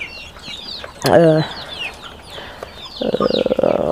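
Chickens in a coop, including a 3.5-month-old rooster, give a loud crowing call followed by scattered clucks and soft chirps, then a burst of busier clucking and rustling nearby.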